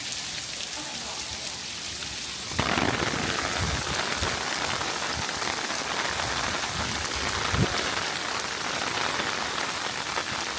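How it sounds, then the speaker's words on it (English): Steady rain falls on a floating island patio, a dense even hiss of drops that thickens after a few seconds and carries on throughout, with no voices. "I was worried it was going to really start raining"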